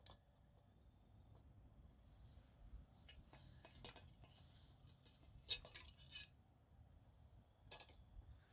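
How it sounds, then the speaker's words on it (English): A cooking pot being handled to bring it to a boil in near darkness, with faint metallic clinks and scraping of pots and utensils scattered across a quiet background and a few sharper knocks. "Let's get this pot boiling here."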